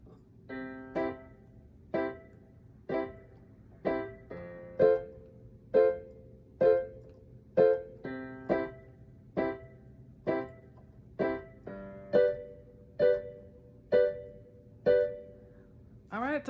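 A piano plays a simple reggae-style pattern for beginners, sounding an evenly spaced chord on each beat in a steady, bouncing rhythm of about sixteen crisp stabs over a quiet sustained low note, close and clear with no talking.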